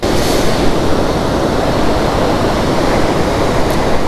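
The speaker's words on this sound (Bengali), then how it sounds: "ওখান দিয়ে জল বয়ে যাচ্ছে" River water rushes under a hanging bridge on a mountain road in Nepal, a loud, steady, broadband roar with no break and no voices.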